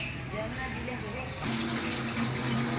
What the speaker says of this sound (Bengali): এখন ওই জ্যান্ত মাছগুলোর মধ্যে মা জল দিয়ে দিচ্ছ